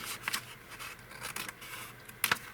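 Scissors snip paper for a gift bag journal cover, a handful of short crisp cuts spaced irregularly, close by, with one sharper double snip near the end.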